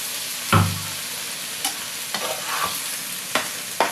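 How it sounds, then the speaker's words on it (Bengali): A peanut mixture with added water frying in a pan gives a steady sizzle broken by repeated spatula scrapes and knocks, one every half second or so, close and loud, with no speech. "এবার এটাকে ভালো করে কষিয়ে নিতে হবে।"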